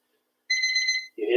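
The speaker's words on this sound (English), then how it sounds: "you hear the beeps." A workout interval timer during a jump rope workout gives a short electronic chirping beep tone, close and clear after silence, and a voice begins speaking right after it.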